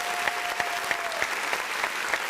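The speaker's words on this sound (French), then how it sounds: "On va l'applaudir très fort, s'il vous plaît." A studio audience on a French TV show applauds as a guest arrives. The dense, continuous clapping carries regular louder accents, and a thin steady tone sounds faintly beneath it for the first half.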